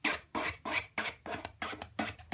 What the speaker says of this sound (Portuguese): Pega a espátula e empurra.